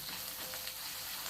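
Shallots and a ground spice paste sauté in a pan, giving a steady broadband sizzle with soft crackle throughout, close and continuous with no talking.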